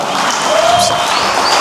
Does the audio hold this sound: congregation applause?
yes